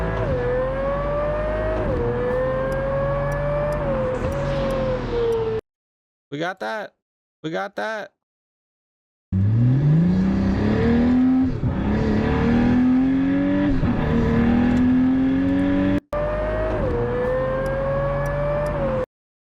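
A Pagani car engine in a racing video game revs loudly and continuously, pitch climbing and dropping through gear changes. A short silent break comes midway, and a voice speaks briefly over the engine.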